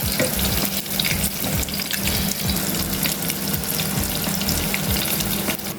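Pork ribs browning in a hot pan, a steady loud sizzle and crackle of frying fat that runs unbroken and close up, with no talking.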